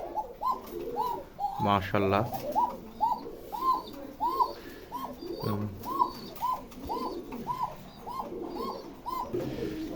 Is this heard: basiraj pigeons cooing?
yes